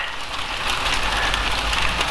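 Hail pelts down in Vancouver as a dense, steady hiss of pattering impacts that swells slightly and stays loud throughout.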